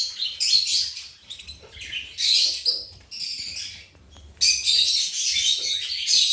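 Young pet lovebirds chirp and tweet in dense, high-pitched bursts close up, rising and falling in loudness with a short lull midway, with no voices present.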